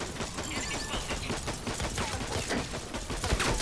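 Rapid bursts of gunfire from the video game Rogue Company crackle densely through the whole stretch, a steady close barrage of overlapping shots with no pauses.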